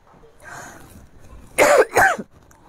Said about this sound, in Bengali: আমার সাংঘাতিক বাজে রকমের কাশি হয়েছে